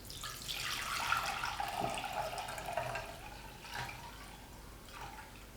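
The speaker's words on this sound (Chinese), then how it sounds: "首先，我们准备一碗大米，放在水中头洗干净" Rice being washed by hand in a bowl of water: soft, quiet sloshing and splashing that swells and fades in a few uneven strokes, close by and alone.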